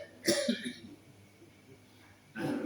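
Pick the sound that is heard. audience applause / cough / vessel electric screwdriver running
cough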